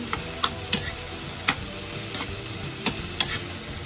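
Mushrooms cooking in a pan alongside salmon give a steady sizzling hiss, broken by a few sharp clicks and taps of a utensil against the pan.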